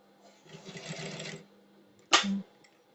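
A sewing machine runs a basting seam on a shirt collar, one soft stitching run of about a second, then a brief louder mechanical clack and whir, close and quiet with no talk.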